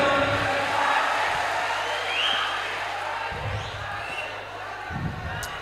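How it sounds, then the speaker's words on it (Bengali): An audience at a speaking event claps loudly, a dense, sustained wash of applause that fills the whole stretch, broken by a few low thumps and scattered crowd noise. "সবাই আমাদের জন্য দোয়া করবেন এবং জোরে একটা করতালি চাই"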